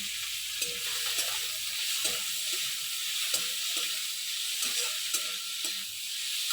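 Prawns fry in a pan with a moderate, continuous sizzle, broken by scattered sharp crackles and pops from spitting oil.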